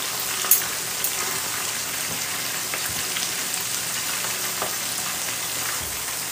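Tilapia fillets sizzling in hot oil in a pan after being flipped, a steady close crackling hiss with scattered sharp pops and spits, no talking.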